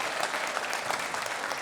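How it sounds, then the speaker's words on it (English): An audience at a live music show claps for a band in a brief, steady burst of applause from a full room. "Give him a round of applause."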